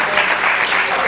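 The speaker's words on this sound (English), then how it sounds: "Let's give these students another round of applause." Loud, close applause from the audience at a poetry recitation competition semifinal for the student performers, a thick continuous burst of clapping over the whole short moment.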